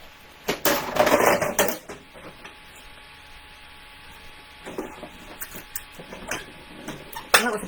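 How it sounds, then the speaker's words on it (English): A manual die cutting machine cutting a craft dragonfly: loud clattering and rolling bursts as plates are cranked through, a quieter stretch, then more clanks and a sharp clatter of plates, without talk. "I'm just going to pop it on there, run this through my die cutting machine."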